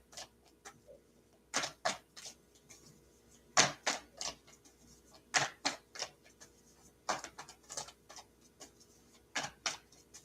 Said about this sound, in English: let me shuffle my cards a little bit